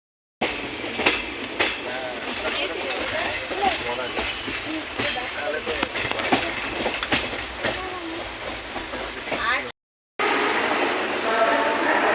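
A train pulling away from a station platform, with steady close wheel clatter and rolling rumble and faint wheel squeal, voices talking over it, and a brief cut near the end.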